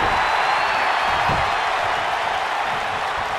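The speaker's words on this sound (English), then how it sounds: "The crowd just got real loud." A wrestling arena crowd in WWE 2K19 roars loudly as a dense, sustained wash of cheering and applause.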